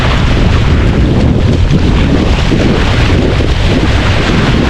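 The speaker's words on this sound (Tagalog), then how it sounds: "Mahangin na." Loud, roaring wind buffets the microphone continuously, a dense rushing blast with no pauses and no voices.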